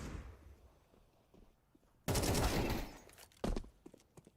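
Pistol shots in Counter-Strike 2 during a live esports match: a quiet stretch, then a sudden loud burst of rapid gunfire at close range, with a second sharp shot shortly after.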